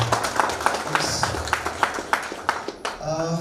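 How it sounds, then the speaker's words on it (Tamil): An audience at a college boot camp event claps in separate, distinct beats, close and moderately loud, while a speaker keeps talking over the clapping. "எல்லாருக்கும் சேர்ந்து ஒரு பெரிய பிரம்மாண்டமான ஒரு கைத்தட்டு தருவாங்க"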